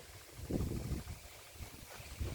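Gusty, cold wind buffets the microphone outdoors in a vegetable garden and cornfield, a low rumbling roar that swells and fades in uneven puffs with no voices.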